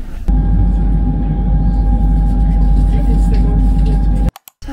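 Steady, loud rumble of a train riding through the Swiss Alps, a continuous low drone with a faint whine that runs unbroken before cutting out abruptly near the end.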